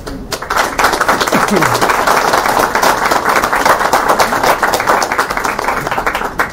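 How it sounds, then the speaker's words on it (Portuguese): An audience at a book launch applauds with dense, steady clapping that stays loud throughout and fades slightly toward the end. "eu peço a vossa salva de palmas para ele"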